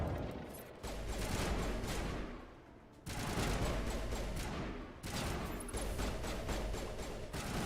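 Dense automatic gunfire from Mass Effect Legendary Edition's first game, a continuous loud fusillade of rapid shots with brief lulls and mechanical clatter, heard alone with no voices.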